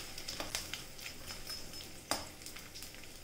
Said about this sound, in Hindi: तो यहाँ पे इसी तरह मैं सारे गोंद को फ्राई करके लेती हूँ।